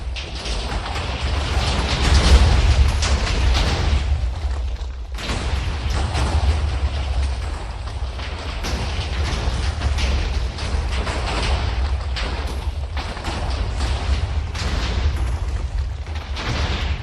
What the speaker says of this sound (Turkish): Sadece patlama mı var acaba? Düşünsene sadece patlıyor.